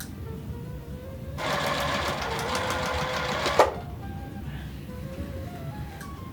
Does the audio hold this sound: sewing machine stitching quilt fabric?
yes